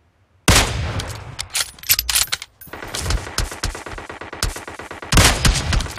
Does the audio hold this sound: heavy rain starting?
no